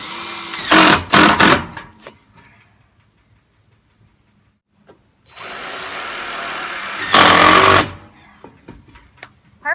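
Power drill driving screws into a fencing door, heard as a few short close whirring bursts, a quiet gap, then two longer loud drilling runs, with no talk over it.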